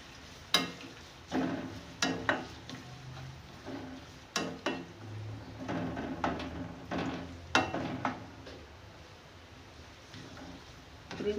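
Onions sizzle and fry in a hot pot while browning for beef biryani, soft continuous crackle punctuated by sharp scraping and clacking of a spoon against the pot at irregular intervals.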